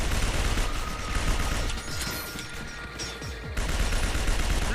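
Sustained automatic gunfire in the sci-fi shooter Binary Domain, dense overlapping bursts from several weapons rattling continuously at high volume with only a brief dip midway; no voices.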